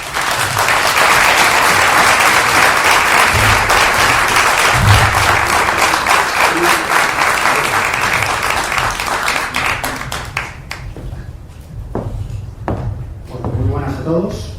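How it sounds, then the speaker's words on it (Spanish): Audience applause welcoming a speaker to a Saturday-afternoon talk on an afterlife for animals and plants, loud and sustained for about ten seconds, then thinning into scattered claps over quieter room noise. "vamos a recibir con un gran aplauso a nuestro amigo Miguel"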